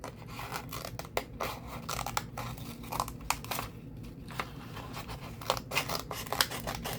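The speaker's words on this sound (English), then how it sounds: "Well, it cuts paper okay." Small spring-loaded scissors on a Swiss Tech multi-tool snip through paper in a quick series of crisp cuts, with crinkling and rustling of the sheet between snips, close and fairly quiet.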